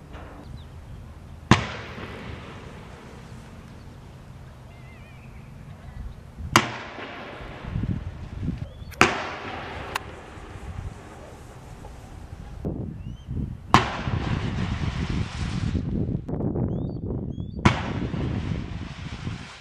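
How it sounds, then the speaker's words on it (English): Several sharp pops and bangs of a daytime fireworks test at the Cape Cod railroad bridge go off at irregular intervals, each followed by a crackling, hissing tail over a steady low outdoor rumble. "Time to set up the fireworks and test them out."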